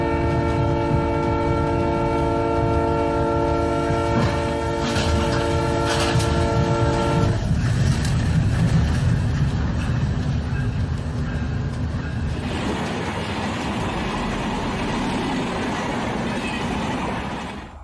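A train rumbles past with continuous clattering wheel and rail noise, its horn blaring a steady multi-tone blast for the first several seconds before the passing roar carries on alone.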